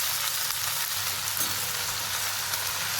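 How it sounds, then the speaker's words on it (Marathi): Spinach sautés over a high flame, a dense, even, loud sizzle that fills the short stretch with no voices and only slight stirring. "आणि फास्ट गॅसवर परतून घेऊया आपण. आपला परतून झालाय पालक."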